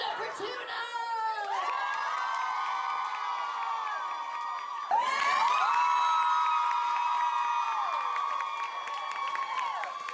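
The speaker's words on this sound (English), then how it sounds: "The entire room was filled with laughter and cheers and clapping." An audience at a puppet show cheers, shouts and whoops in a loud, sustained wave with children's voices prominent and some clapping, swelling again midway.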